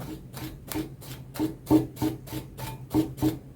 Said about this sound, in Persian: من عاشق این صدای دفه هستم